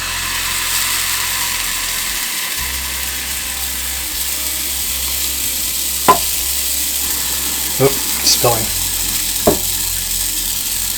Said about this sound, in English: You can hear the sizzle because it's still too hot